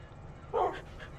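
A single short dog bark sounds at moderate distance in Minecraft, alone over a low ambient hum.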